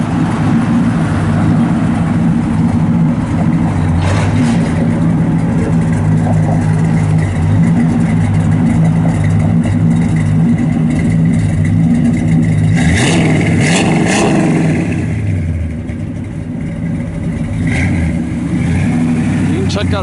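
A 1967 Ford Fairlane XL engine runs steadily at a low, smooth idle, a constant mechanical hum with faint rattles, loud and close throughout.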